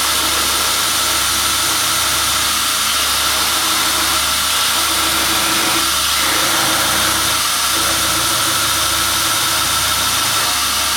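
A belt grinder fitted with a 100 grit belt grinds a Kydex knife sheath, giving a steady, loud broadband whir and hiss that runs unbroken throughout, with a low motor hum underneath and no talking.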